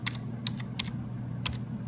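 Typing on a computer keyboard while labelling an Excel chart: a few crisp, close key clicks in small irregular bursts over a steady low hum.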